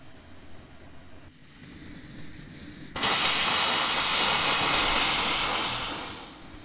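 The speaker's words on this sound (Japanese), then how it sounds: "蒸気の圧力が上がり、動き出すまで釜を焚きます。" A small steam locomotive on the Sekiya Railway in Kashiba, Nara, builds pressure with a steady hiss that swells into a loud, sustained rush of venting steam partway through, with no talk over it.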